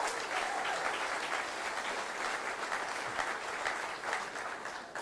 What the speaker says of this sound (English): give Margaritaville and all the stakeholders a round of applause